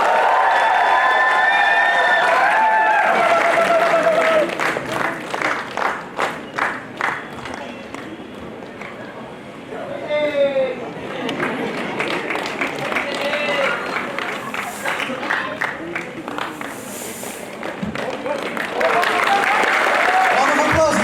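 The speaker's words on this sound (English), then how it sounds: "Give them a big round of applause once again, guys!" A crowd at a college fresher pageant, with the Mr. and Miss PNTMD 2024 winners just crowned, breaks into loud applause and cheering that dips in the middle and swells again, with an announcer's voice and music heard over the clapping.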